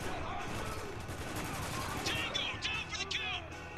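Rapid bursts of automatic gunfire fill a firefight in the Spec Ops: The Line shooter game, steady crackling shots at moderate distance, fairly quiet, with faint shouted voices mixed in near the end.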